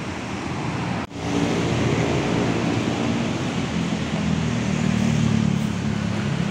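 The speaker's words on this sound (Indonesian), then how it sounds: "Di sini ALS 181 sedang berusaha parkir ya ke jalur keberangkatan ya" An ALS intercity bus, number 181, maneuvers into the departure lane at the ALS pool in Bogor before dawn. A steady, close engine rumble runs throughout, with one brief dip near the start.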